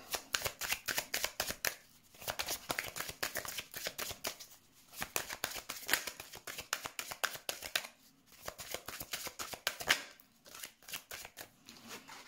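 Tarot cards being shuffled in rapid riffling bursts, separated by short pauses about every two seconds, close and crisp, with no talking.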